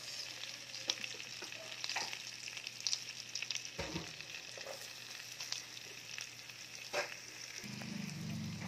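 Onion sizzles and crackles steadily in garlic butter, cooked for a seafood dish, with a few scraping stirs and clatters, close and alone without talk.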